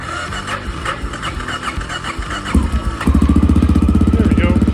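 A motorcycle fitted with cheap break-away LED turn signals starts up with the choke on: a few seconds of sputtering cranking, then the engine catches and settles into a loud, close, steady idle.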